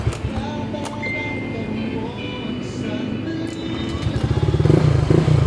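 A Honda Click 125 scooter engine runs after an overhaul with a crankshaft replacement, giving a steady low idle that grows louder and rougher toward the end, with faint clinks nearby.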